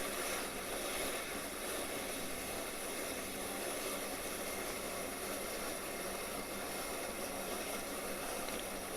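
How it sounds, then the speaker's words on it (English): A boat's inboard Chrysler engines run with a constant droning hum, steady without pause, a broad mechanical rumble with no talking over it. "Let's start up the old Chryslers."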